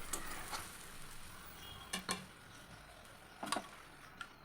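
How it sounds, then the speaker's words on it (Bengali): Ginger frying with cumin and coriander powder masala in a pan for a Bengali chana dal, a faint soft sizzle with a few sharp clicks of a spoon stirring against the pan, close by. "দিয়ে এবার এই মশলাটাকে আমি ভালো করে কষিয়ে নেব।"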